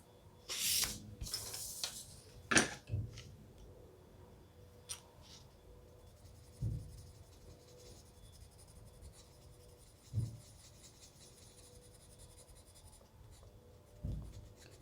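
A colored pencil burnishing over paper gives soft scratchy strokes, a short cluster first and then a few spaced passes, close up and quiet with no talking.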